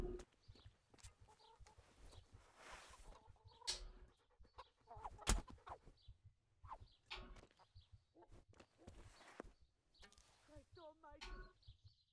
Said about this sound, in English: Think I can kill this chicken and get away with it?